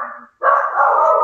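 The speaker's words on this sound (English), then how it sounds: "We have a dog." A dog barks twice in quick succession, close and loud, the second bark longer and more drawn out, with no voices over it.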